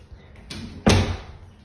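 A door in a Sonic cartoon is shut: a soft swish, then one sharp, loud slam that decays quickly, with no one talking.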